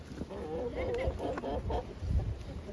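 Chickens cluck and murmur nearby in a series of short, throaty calls over a quiet farmyard background.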